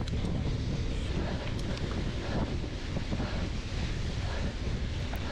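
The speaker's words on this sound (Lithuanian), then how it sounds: "šios dienos oras, tas vėjas, tai stipriai pasunkino, lietus, vėjas" Strong wind buffets the microphone outdoors at a rainy 2023 mountain bike race in Telšiai, a loud, continuous roar with gusty swells and no clear pauses.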